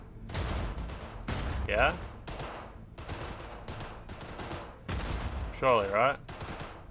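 Bursts of rapid gunfire from a video game shooting range, several clustered volleys of shots aimed at targets, with players talking between and over the shooting.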